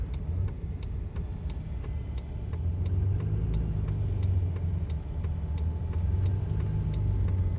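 A Case 9240 combine harvester with low-looking tires rumbles down a road, a steady heavy engine drone with a faint regular ticking over the top, no talking.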